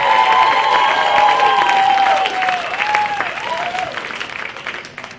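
An audience at a comedy show applauds and cheers for an incoming comedian, a dense wash of clapping with whoops and a few high whistles, holding steady and then easing off slightly.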